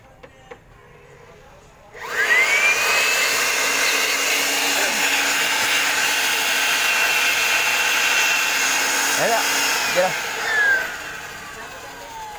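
A loud, steady whoosh of an air blower cleaning a Panasonic window-type air conditioner starts abruptly after a short quiet moment and runs continuously, with faint voices underneath.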